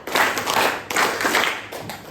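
A class of students claps hands together in a counted rhythm, producing a few sharp, loud group claps in quick succession, with no speech.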